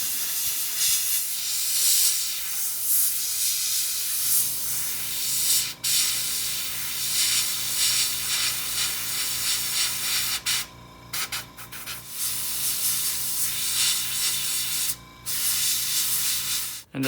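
A Mister Paint sprayer hisses steadily as paint is sprayed freehand, with a few brief breaks where the trigger is released, and a faint background hum runs underneath.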